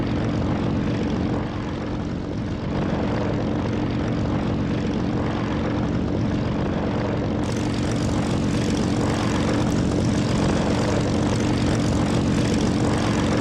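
A propeller aircraft engine drones steadily in a flight simulator game, a loud continuous hum with a persistent tonal whine and no pauses, the engine running rough and close.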